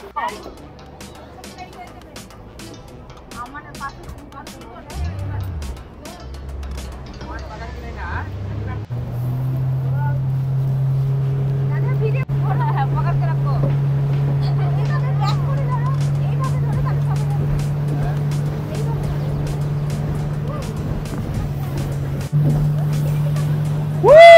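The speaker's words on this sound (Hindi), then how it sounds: "आहे मजबूत स्पीड आहे बोट." A speedboat runs at Juhu beach in Mumbai with a steady, loud engine drone that rises and holds, mixed with wind and water rush, while passengers chatter and call out throughout.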